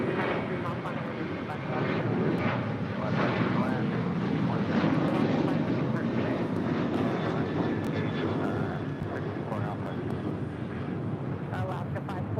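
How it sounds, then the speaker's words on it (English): An American Airlines Boeing 737-800 departs from LAX, its jet engines roaring in a broad, steady rumble at moderate distance while someone talks over it. "That is American Airlines 842 departing to Chicago on a 737-800."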